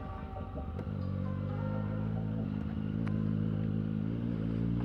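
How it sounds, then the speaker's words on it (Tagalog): Triumph Street Triple R motorcycle ridden on a commute to work: a continuous, close engine drone with a steady pitch that grows a little louder and fuller after the first second, plus light rattles and clatter from the ride. "So I decided, why not use this motorcycle to go to work?"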